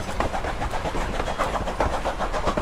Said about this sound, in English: you'll hear the rhythm of the chugging. That's the steam exhausting out of the cylinders.